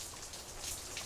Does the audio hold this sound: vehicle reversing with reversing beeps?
no